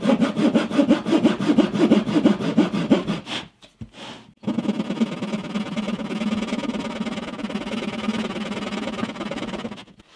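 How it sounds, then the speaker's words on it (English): A hand saw cuts a fret slot in wood with loud, steady rhythmic rasping strokes, pauses briefly, then resumes in a smoother, continuous scrape close by. "saw the slot"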